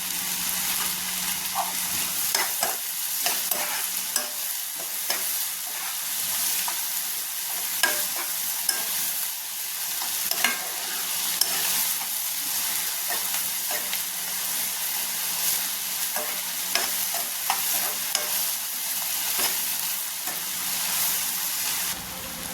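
Jackfruit masala fries in a pan and gets stirred continuously, a bright sustained sizzle with frequent scraping strokes of a spatula up close, with no voices.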